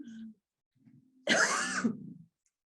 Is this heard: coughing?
yes